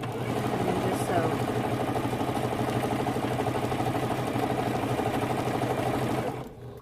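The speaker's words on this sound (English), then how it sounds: "And then just sew." A sewing machine runs steadily, stitching a quarter-inch seam on a fabric mug rug, a continuous even mechanical hum close by that stops abruptly near the end.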